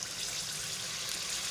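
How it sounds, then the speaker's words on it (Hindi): Water poured into a pot of browned meat for a Pakistani drumstick-and-mutton curry, a short steady hiss and splash of liquid with no talking. "अब इसमें हम थोड़ा सा पानी शामिल कर लेते हैं"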